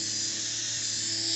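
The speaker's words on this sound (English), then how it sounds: "I'm pretty much letting the friction and the heat and the polishing do the job, the machine do the job." Polishing machine buffing a plastic headlight lens with headlight polish, a steady high-pitched electric whine with a constant motor hum, close and continuous, no talk.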